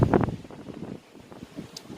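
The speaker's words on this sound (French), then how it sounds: "j'espère que le vent ne vous embête pas" Wind buffets a microphone outdoors in low rumbling gusts, strongest at the start and then easing into softer, uneven blowing.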